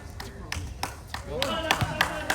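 Scattered claps ring out at an outdoor streetball game, a handful of sharp separate hand claps spaced unevenly, with players calling out and talking over them.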